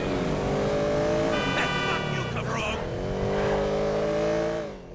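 Mercedes AMG C63 Black Series engine in the GTA Online video game revs steadily with rising and falling tones, loud and continuous, with brief higher-pitched squeal or whine partway through.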